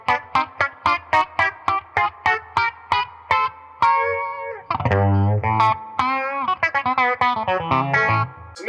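An electric guitar played through a Warm Audio Mutation Phasor II phaser pedal, with a run of quick, evenly spaced picked notes followed by ringing, swirling chords and a few more clipped notes, loud and close with no talking.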